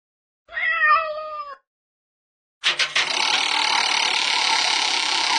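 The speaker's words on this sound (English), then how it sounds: "Cat." A single cat meows once, clear and close, then a pause before a broad noisy rushing sound takes over.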